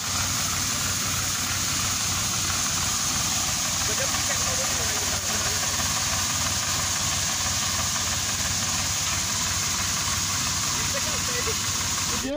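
A small double-power spray pump engine, a budget alternative to a tractor-mounted sprayer for farmers, runs at a steady loud drone with a constant mechanical hum, and voices can be heard over it throughout.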